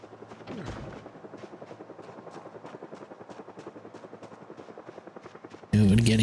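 A helicopter in a video game thumps with fast, even rotor pulses at moderate volume, then a sudden loud burst of noise cuts in at the end.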